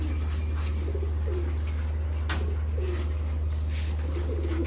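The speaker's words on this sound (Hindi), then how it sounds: "इनको बोलते हैं दोस्तों चैम्पियन और नामवर सियालकोटी कबूतर" Champion Sialkoti pigeons give several low, throaty coos in short repeated phrases over a constant low hum, with a sharp brief click midway and no voices.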